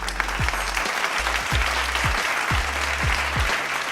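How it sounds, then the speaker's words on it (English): A crowd claps loudly and steadily at a live talk event on relationships. Dense applause fills the whole stretch, with regular deep thumps from background music pulsing underneath it. "I want you to clap before we start talking."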